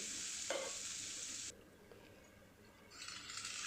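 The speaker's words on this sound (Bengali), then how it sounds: "একটা গোটা পেঁয়াজ আমি কুচিয়ে নিয়েছি সেই কুচোটা দিয়ে একটু ভেজে নিচ্ছি পেঁয়াজটাকে" Chopped onion fries with cumin in mustard oil, a soft sizzle that fades after a small clink and then swells back near the end, with light stirring noises.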